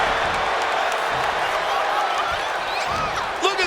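Wrestling arena crowd at a WWE Saturday Night's Main Event roaring and cheering continuously, a dense wall of loud crowd noise with scattered shouts and a brief louder swell near the end.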